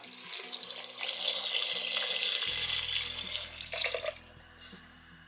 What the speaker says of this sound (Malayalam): ഇനി ഇതിലേക്ക് കുറച്ചുകൂടെ വെള്ളം നമുക്ക് ഒഴിച്ചു കൊടുക്കാം